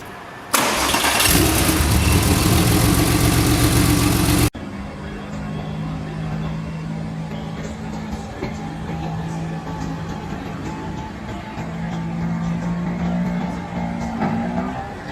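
1995 Porsche 911 Carrera 4 with a 3.6-liter Vario-Ram flat-six, as sounded in the racing game Need for Speed Porsche Unleashed: a loud starter burst and catch, then a steady droning idle with slight rises in revs, under a voice.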